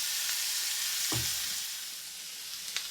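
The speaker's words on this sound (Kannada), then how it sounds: "ಒಂಚೂರು ಆನಿಯನ್ ಫ್ರೈ ಆಗಲಿ, ಚೆನ್ನಾಗಿ ಬ್ರೌನ್ ಆಗೋ ತನಕ" Onions frying in a pan for a spicy small-capsicum curry, a steady soft sizzle with a brief stir or scrape near the middle and a faint clink near the end.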